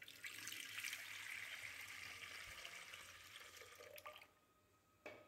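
Water pours steadily into a cooking pot for several seconds, a hissing splashy stream that stops abruptly, followed by a faint clink.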